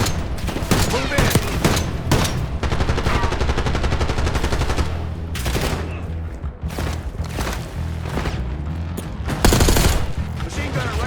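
Heavy automatic gunfire from the Call of Duty: Black Ops 6 video game, loud and dense with overlapping bursts and sharp shots, mixed with impacts and faint voices throughout.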